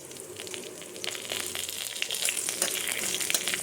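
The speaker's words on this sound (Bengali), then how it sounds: "ভেজে রাখা সবজির তেলের মধ্যে সাদা জিরা ফোড়ন দিয়ে দেবো।" White cumin seeds sizzle in hot oil left over from frying vegetables, for a curry of green banana, potato, aubergine and red lentils. The crackling is steady and close, with spatters that grow slightly denser and louder, and no voices.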